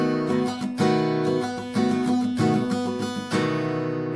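A guitar chord strummed downward from the fifth string several times, ringing and rhythmic, close and clear with no voices.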